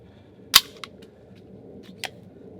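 Clearing a jammed round from a CZ75 SP-01 Tactical pistol locked up out of battery: one sharp close metallic clack, then a small click and a second lighter clack a moment later, in a quiet room with no talking.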